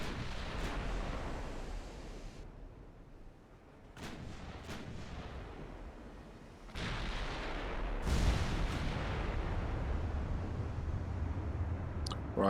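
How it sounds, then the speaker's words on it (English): Naval guns fire in the Ultimate Admiral Dreadnoughts warship game, giving several heavy booming blasts spread over a long rumbling battle bed, loud and close, with no voices. "the other gun did fire, even though it didn't raise its barrels"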